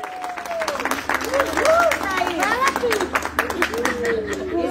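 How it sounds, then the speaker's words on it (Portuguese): A small group claps and cheers at a romantic surprise for a husband, with scattered claps under overlapping excited voices and whoops throughout. "Uma salva de palmas, pessoal!"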